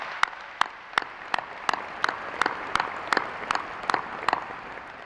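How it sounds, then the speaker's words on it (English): Audience applause at the South Kitsap High School Class of 2022 commencement ceremony, a steady wash of clapping with sharper, regularly spaced claps standing out at moderate loudness, with no talking. "If we can give everybody that I've mentioned a big round of applause,"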